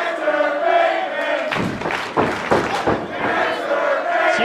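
Loud, dense crowd chanting fills an indoor independent pro wrestling show, a rhythmic roar of many voices that swells and pulses throughout.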